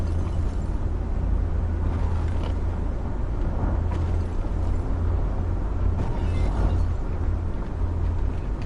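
Tourist Bus Simulator bus on PS5 being rammed repeatedly from behind by another vehicle, a continuous loud engine drone with low rumble and scattered dull crashing thumps, no talking.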